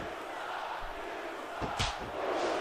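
A wrestling arena crowd in the video game WWE SmackDown vs Raw 2006 roars in a steady dense wash of shouting, with a couple of thuds from the ring near the end.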